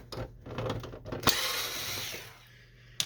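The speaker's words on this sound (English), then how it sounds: "just remove the other screws here" Screws are backed out of the cover of an HP Photosmart Premium C410a printer during disassembly, giving close, faint ratcheting and clicking with a sharp snap partway through.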